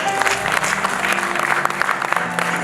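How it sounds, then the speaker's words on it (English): A church congregation clapping during a sermon on positive attitude, a loud, continuous patter of many hands with scattered voices and music tones underneath. "Okay, give the clap for Papa's life."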